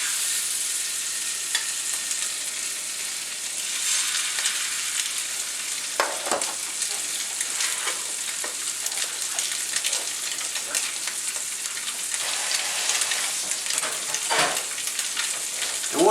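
Sunfish or bluegill fillets seasoned with lemon pepper fry in melted butter, giving a steady close sizzle with bursts of spattering and occasional scraping stirs, and no voices.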